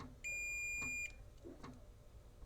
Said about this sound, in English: continuity beep whenever I touch 1 over here